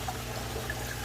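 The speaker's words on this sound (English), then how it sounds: "I'm gonna get the hose and get some water in here" Water from a hose pours steadily into a low aquarium sump in an African cichlid fish room, a continuous close trickling wash with no voices.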